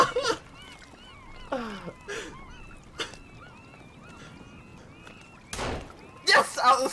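Seagulls call repeatedly in the game Sons of the Forest, a series of squawking cries scattered across the scene, with short bursts of loud game noise and a voice breaking in at moments.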